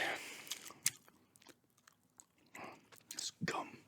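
Gum chewed close to the mic in an ASMR alien-therapist roleplay: soft, wet smacking and crunchy bites come in uneven bursts, louder at the start and near the end, with quiet gaps between.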